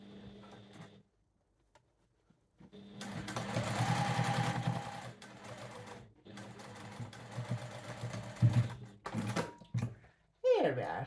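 A sewing machine stitches a fabric tissue basket's opening closed with a 1/8-inch seam, running in a long steady whir, then shorter bursts, with a voice speaking briefly around it.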